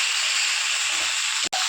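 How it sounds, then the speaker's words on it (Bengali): Washed raw chicken pieces dropped into a hot pan of spiced oil for chicken kosha, giving a steady close, loud hiss and sizzle that holds throughout, with a brief break near the end. "এবারে দিয়ে দেবো ধুয়ে রাখা চিকেন।"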